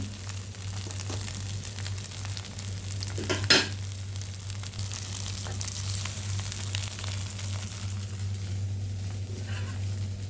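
Food fries in masala in a pan and is flipped, with a constant close sizzle over a low steady hum and one brief clatter of the utensil partway through.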